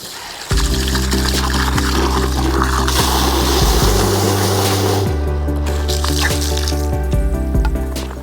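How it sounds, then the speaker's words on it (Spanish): Water gushes steadily into a bucket holding a splash of car shampoo, filling with a loud, continuous rushing pour and a slowly shifting pitch as the level rises. "Entonces le echáis un chorrito, así, tal cual. Esto lo llenáis de agua."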